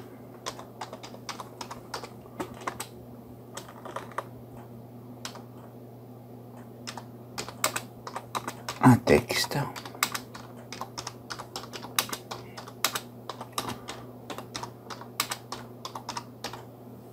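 Steady typing of text on a computer keyboard, a long run of crisp close keystrokes in quick irregular bursts with a brief louder cluster midway, over a faint constant hum.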